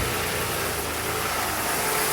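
A 1989 Mercury Grand Marquis V8 idling rough after a restart, with a steady, loud, diesel-like engine drone throughout and no talking.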